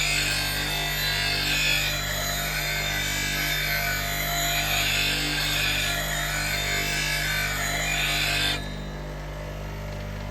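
Woodturning roughing gouge sharpened in a handmade wooden jig to form a relief bevel: a loud, steady abrasive grinding hiss runs with gentle surges, then cuts off near the end, leaving a low motor hum.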